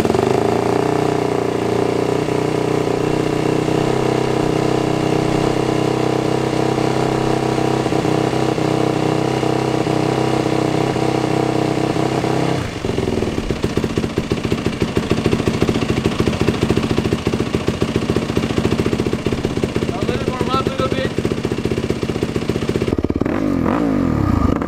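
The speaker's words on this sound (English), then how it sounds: "So let's see how it starts cold. Usually I go twice on the throttle, pull the choke up, and then just hit a starter." A Yamaha WR450F dirt bike starts from cold on the choke, loud and close: a steady high idle for about twelve seconds shifts to a rougher, pulsing idle, then a few quick blips of the throttle at the end.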